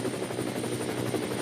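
Helicopter rotor drone at a Nürburgring endurance race, a steady continuous thrum with broadband whine, fairly distant and unbroken throughout.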